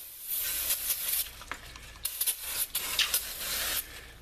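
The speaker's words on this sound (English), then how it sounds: "So I'm just going to spray this down with brake cleaner one last time just to get any grease off of it." Brake cleaner sprayed onto a 2017 Chevy Cruze brake rotor, a steady close aerosol hiss running for about four seconds with a few short pauses and bursts, no talking.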